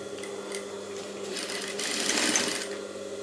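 A sewing machine stitching piping onto a high-neck blouse, a continuous close whirring hum with a rapid stitching rhythm that swells slightly toward the end.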